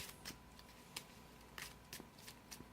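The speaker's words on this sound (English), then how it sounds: "So, let's get these shuffled up" Pokémon trading card decks being shuffled by hand, quiet papery riffles and flicks arriving in irregular bursts close to the listener.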